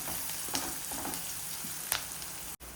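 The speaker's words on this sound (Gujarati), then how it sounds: "સારી રીતે ડુંગળીને સાંકળવા દઈશું" Onions sizzle steadily in a hot pan, broken by a few light scrapes of stirring, close and continuous until a brief cut at the end.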